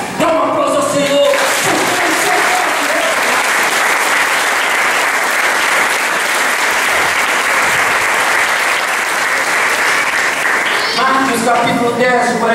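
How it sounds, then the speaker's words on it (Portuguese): Sustained, loud applause fills a church service in praise of the Lord, a dense wash of many hands clapping steadily for about ten seconds, with a voice speaking briefly at the start and again near the end. "Dá um aplauso ao Senhor"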